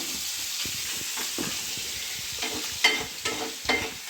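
Prawns and coconut pieces fry in hot oil with a steady close sizzle, broken by a few scraping stirs and light clinks toward the end, with no voices.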